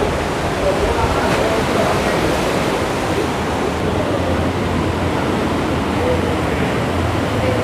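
Waves and surf at Playa Las Tunas beach in Conchagua, La Union, El Salvador make a continuous broadband wash with wind, steady and fairly loud throughout.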